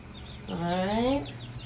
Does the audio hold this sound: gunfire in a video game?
no